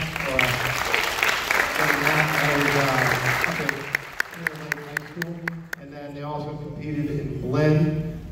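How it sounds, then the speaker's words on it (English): Audience applause after a high school jazz band performance, a broad wash of clapping filling the hall while an announcer's voice and musical tones carry over it, with a few sharp louder claps standing out midway. "So a round of applause for them."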